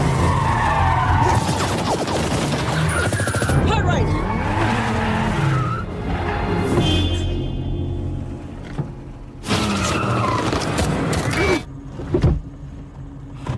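Tires skid and squeal as cars race in a film chase scene, with engine roar and impact noise in dense bursts, then a pause and renewed screeching, voices briefly heard.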